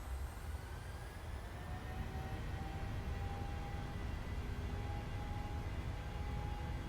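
Simulated jet engines of a PMDG Boeing 737-800 spool up for a takeoff roll in Microsoft Flight Simulator, a steady, loud low rumble with a thin rising whine held throughout.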